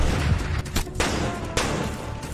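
Gunfire from a film shootout, with several sharp shots cracking out amid continuous loud action-scene noise, the reports spaced irregularly as though fired from a distance.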